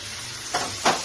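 Boiled cholar dal goes into a pot of hot oil and spices already sautéed with sour yogurt, giving two quick, close bursts of sizzling over a low background hiss.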